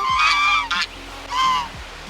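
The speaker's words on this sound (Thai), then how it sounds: "ตอนนี้นะคะน้องเป็ดน้องห่านก็คือมาแล้ว" Loud geese honk close by, three harsh nasal calls in quick succession with short pauses between.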